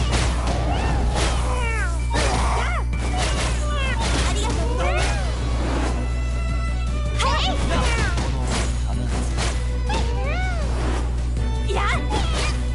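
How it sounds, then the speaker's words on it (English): Repeated cat meows and caterwauling in the video game Caravan Stories, rising and falling cries scattered over a steady loud game soundtrack, with occasional thuds and speech mixed in. "But why you even fight a cat is beyond me."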